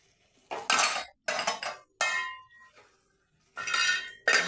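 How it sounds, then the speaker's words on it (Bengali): A lid handled over a pan of Bengali cabbage and pea chorchori, producing several close, bright metallic clattering bursts separated by short silences. "ঢাকা দিয়ে দিলাম 5 মিনিট"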